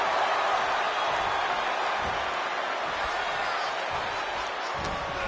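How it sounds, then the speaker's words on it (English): A wrestling arena crowd cheering and roaring in a sustained, dense wash of noise, loud throughout, with occasional thuds and shouts within it. "Listen to this crowd."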